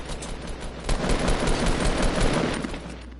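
Rapid automatic gunfire in the video game Fortnite, dense bursts of shots rattling loudly and continuously across the whole stretch with no speech over it.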